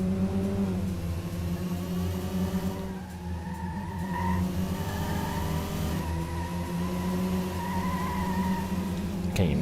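Several cars race in the video game Metropolis Street Racer, engines droning and revving steadily over one another, with tires squealing through turns, loud and continuous throughout.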